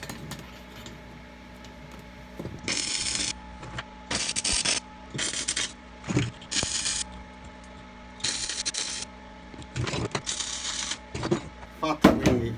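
Tack welding iron pieces for a small welding table, bursts of crackling, buzzing sizzle about a second long, repeated roughly eight times with short clanks and handling noises between.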